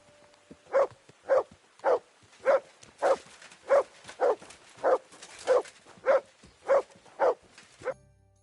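A dog in the medieval video game Kingdom Come: Deliverance II barks repeatedly in an even rhythm, about thirteen short clear woofs spaced roughly half a second apart, moderately close with no talk over them.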